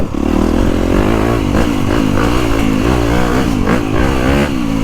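A 2025 Honda CRF250R Works Edition motocross bike's engine revs hard and continuously close by, its pitch rising and falling through throttle changes with a buzzing, clattery tone.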